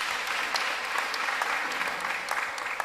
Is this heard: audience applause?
yes